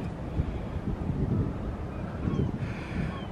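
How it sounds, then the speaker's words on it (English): Gusty wind at a hilltop zoo lookout buffeting the microphone, a continuous low roaring rumble with no pauses, close and steady throughout. "It is a tad blustery up here in the lookout"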